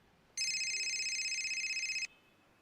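A telephone rings indoors in a domestic scene from a Marathi TV serial: one steady electronic ring lasting under two seconds, clear and fairly close, with no voices.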